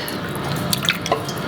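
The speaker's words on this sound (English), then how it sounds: "Dip it in the water and you see." Raw prawns being dipped in a bowl of water while cleaning them for a homemade prawn sukke masala, giving a few soft drips and light splashes over a steady background hiss.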